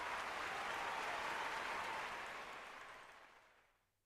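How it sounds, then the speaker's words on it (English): Applause heard faintly at a distance, a soft broad wash of clapping that holds for a couple of seconds and then fades away to near silence. "we give you an applause for that"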